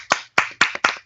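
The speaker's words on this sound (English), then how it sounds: "a good clapping round of applause for you all" A single person claps five times in a quick, even rhythm, each slap crisp and close with brief gaps between.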